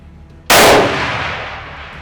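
A single loud rifle gunshot while hunting whitetail deer in North Texas, a sharp close crack followed by a long fading echo rolling across open ground.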